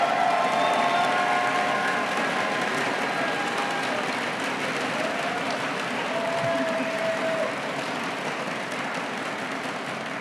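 Crowd at a Berlin esports event for League of Legends Worlds 2024 applauding and cheering, a dense sustained wash of clapping with scattered shouts that stays loud throughout before easing slightly near the end.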